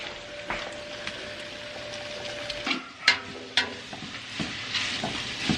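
Onions and kale frying in a pan for breakfast freezer meals, a steady sizzle broken by several sharp utensil scrapes and clinks as the mix is stirred, close and moderately loud with no talk.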